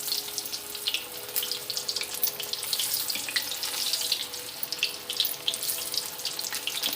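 Bitter gourd slices frying in hot oil give a steady, close crackling hiss that runs continuously throughout, with no voices.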